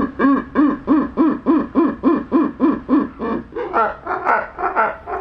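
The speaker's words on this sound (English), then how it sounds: "if you put their laughing in slow-mo," A kookaburra's laughing call slowed right down, turning into a run of regular deep hooting pulses roughly three per second that grow ragged and busier toward the end, loud and close with no talk over it.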